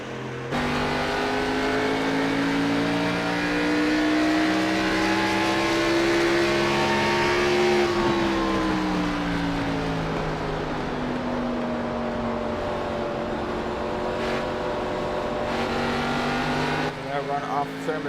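Stock car engines drone and rev continuously in a racing video game, a steady loud whine that rises and falls in pitch as the cars accelerate, with commentary talking over it throughout.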